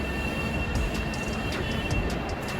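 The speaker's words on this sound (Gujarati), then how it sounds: "આપણે પહોંચી ગયા છીએ મુંબઈ સેન્ટ્રલ રેલવે સ્ટેશને" A Vande Bharat Express train at Mumbai Central railway station, a steady close rumble of rolling rail cars with faint wheel squeals.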